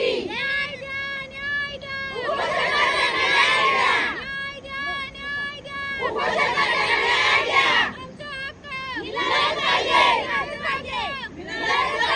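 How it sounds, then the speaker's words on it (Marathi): A crowd of farmers' wives protesting while standing in a river chants and shouts in loud repeated bursts, with voices rising and falling together and babble filling the pauses. "मोठ्या संख्येने महिला नदीमध्ये उतरून हा आंदोलन करत आहेत"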